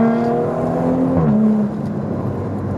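A BMW M235i's engine revs with a quick pitch drop mid-way as it rev-matches a gear upshift with a blip, then settles into a steady drone.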